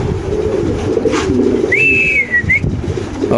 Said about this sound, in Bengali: এক জোড়া মডার্ন কবুতর আপনি দেখতে পাচ্ছেন